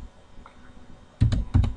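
Computer keyboard typing code: a few faint keystrokes, then two quick pairs of loud, close key clicks at the end.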